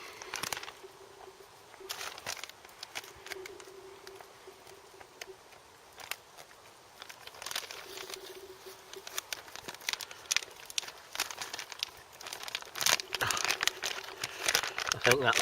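An MRE cappuccino pouch is torn open along its tear strip, giving crinkly, rustling plastic crackles in bursts, loudest near the end, while someone talks over it.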